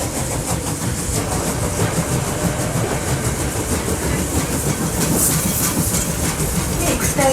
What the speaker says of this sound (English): Sweet, there was a train going to Upper Hutt.